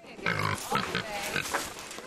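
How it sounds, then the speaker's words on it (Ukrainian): Newly arrived pigs at a farm-animal sanctuary in rural Maryland grunt and squeal in several short bursts over a steady background, fairly close, with a voice speaking faintly underneath. "Ці щойно прибулі свині доживатимуть у компанії 200 інших мешканців стайні."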